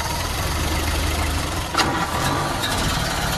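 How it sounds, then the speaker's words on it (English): A nearly century-old Ford Model A four-cylinder engine runs at a steady idle, a close, even low chug with a brief knock near the middle. "The Model A is just a four-cylinder engine that followed the Model T, 100 years old almost."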